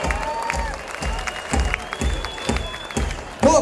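Concert audience applauding the guitarist at an August summer festival show, steady crowd clapping with strong regular beats and a few whistles, some voices mixed in, loud and close.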